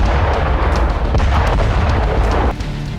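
Russian rocket and artillery strikes hit Ukrainian positions near Kupiansk, a loud, dense roar of blasts and rumbling booms filling the clip before easing slightly near the end.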